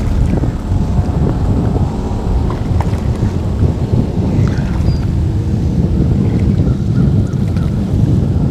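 Distant thunder makes a steady, deep rumble that growls on without a break beside open water, mixed with wind buffeting the microphone.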